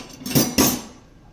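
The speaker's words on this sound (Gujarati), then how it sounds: "જાળો લઈ લઈશું આપણે તળવા માટે" A metal frying pan for frying okra is picked up in a home kitchen, giving two quick, close metallic clanks in succession that then fade out.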